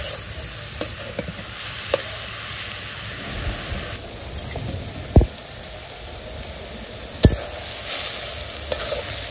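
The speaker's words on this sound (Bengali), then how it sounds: "এখন আমি কুমড়াটা কষাইতে থাকি" Ash gourd (chal kumro) sautéing in a pan with green chilies, a steady sizzle under a continuous stirring scrape, punctuated by a few sharp spatula knocks against the pan. No one speaks.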